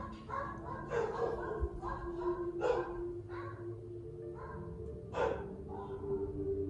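Dog barking indoors, several separate woofs and yips spaced a second or two apart over a steady low hum, fairly close.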